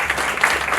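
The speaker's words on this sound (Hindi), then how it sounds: "इसके लिए तो तालियां बनती हैं" Applause from a studio audience at a celebrity interaction event, a steady dense wash of clapping without pause, fairly loud and close.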